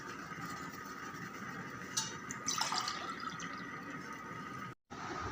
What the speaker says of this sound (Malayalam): ഒരു ഗ്ലാസ് വെള്ളം ഒഴിക്കുന്നുണ്ട്.